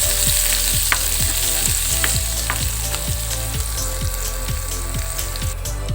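Chopped garlic and a large chopped onion frying in oil in a pan until crisp and browned, a loud, steady sizzle with regular stirring scrapes and clinks throughout.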